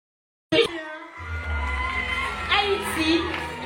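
Crowd at the Miss World Haiti 2021 grand final cheering and shouting after a short silence, a loud sustained roar with whoops rising in waves, while a presenter's voice carries over the top.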